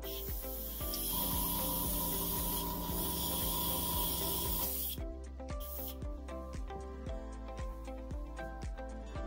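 Airbrush spraying makeup onto a face for haunted house makeup, a continuous close airy hiss that holds steady for about five seconds and then cuts to quieter spurts with background music underneath.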